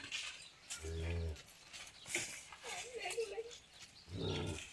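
A cow lows twice, a deep drawn-out moo near the start and another near the end, close by in a rural yard while people talk around it.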